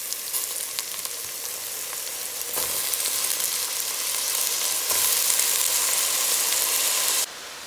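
Butternut squash dropped into a hot pan and frying, a loud continuous sizzle that surges as the pieces go in and stays steady and close, ending in a slightly quieter hiss.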